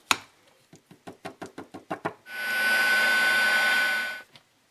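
A handheld heat tool melting light blue embossing powder on a stamped card gives a steady, loud blowing whoosh lasting about two seconds. It is preceded by a quick series of about ten sharp tapping knocks.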